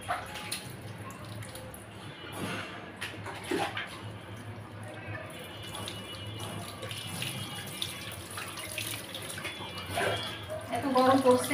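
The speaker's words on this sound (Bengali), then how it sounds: "তান্নুর আজকে ঈদের গোসল হচ্ছে" A pet named Tannu is given a bath, with steady running and splashing water from a tap filling a tub, continuous and close, while a voice talks over it.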